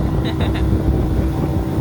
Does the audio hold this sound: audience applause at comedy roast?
no